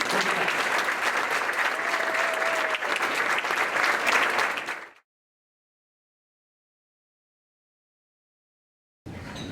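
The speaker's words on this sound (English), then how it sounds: "Ladies and gentlemen, just one more round of applause for our fall MVP." Steady applause from a crowd at an athletic award dinner fills the first five seconds, then cuts to silence before the clapping briefly returns.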